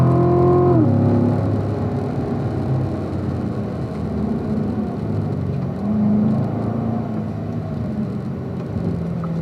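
A learner's car accelerates steadily during a driving lesson, its engine drone rising in pitch, then settling into a continuous nearby hum with road noise and no talk.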